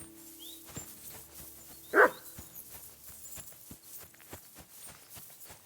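A single loud dog bark close by in the medieval video game Kingdom Come: Deliverance II, rising over quiet rhythmic hoof clops and faint ambient sounds.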